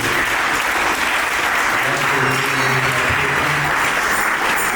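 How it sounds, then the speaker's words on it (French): Loud, dense applause mixed with cheering from a church congregation at a Sunday service, steady and sustained throughout. "Nous allons acclamer pour le Seigneur."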